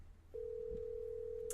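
A telephone call to Aurora rings out as a single steady electronic tone over faint low hum, quiet and close.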